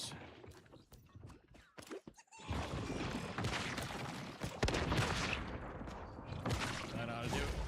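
Grenades exploding in the shooter game Once Human, a burst of sharp blasts and cracks in quick succession, then a dense rumbling barrage that continues loudly to the end.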